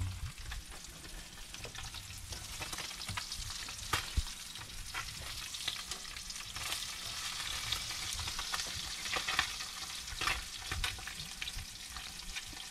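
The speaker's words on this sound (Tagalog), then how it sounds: "dapat doble ingat tama kayo doon kasi tumawagsik yung oil ni Ricardo, tumawagsik." Food sizzles and crackles steadily in hot oil, with scattered sharper pops throughout.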